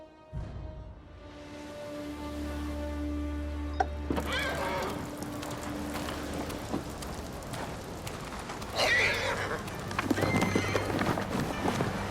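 Kaze, a horse in the video game Ghost of Tsushima, whinnies and clops its hooves in a steady walking rhythm, with rain falling and ambient game sounds around it; the sound is close and fairly loud.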